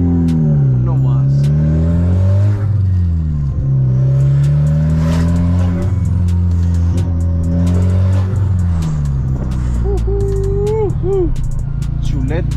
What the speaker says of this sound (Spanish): Amo SRT4s, son una bestias de carros, la verdad.